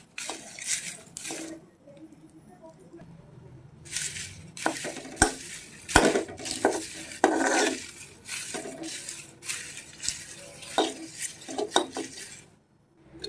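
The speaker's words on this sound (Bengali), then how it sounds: "তো এইভাবে কিছুক্ষণ ভাজতে থাকবো একদম কালো হওয়া অবধি।" Onion peels frying and being stirred in a pan, with repeated scraping and clinking of a utensil against the metal over a faint sizzle, coming in irregular bursts close by with short quiet gaps.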